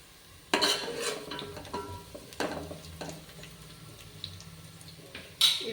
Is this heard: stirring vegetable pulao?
yes